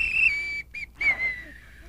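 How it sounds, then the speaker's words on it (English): A whistle is blown in short shrill bursts, two loud toots separated by a brief gap, with a faint voice underneath. "How about my whistle?"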